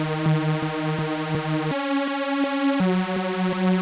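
A buzzy Serum synthesizer default wave with unison set to 7 stacked, slightly detuned voices, playing a short repeated pattern of notes that shifts pitch twice.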